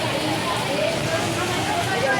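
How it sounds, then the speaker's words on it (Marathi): Rain pours steadily, a dense, even hiss at close range that never lets up for the couple of seconds heard. "लय पाऊस पडताय मित्रांनो."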